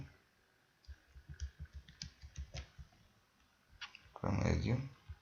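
A computer mouse clicks in a quick series of crisp, close taps, a later cluster mixed with keyboard-like clatter, under quiet room tone, with a brief burst of noise near the end.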